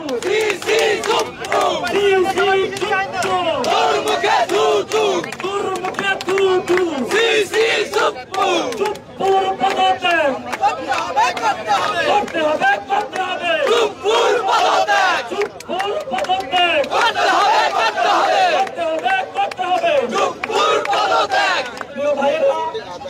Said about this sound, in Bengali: তারা এই মুহূর্তে জাতীয় জাদুঘরের সামনে স্লোগান দিচ্ছেন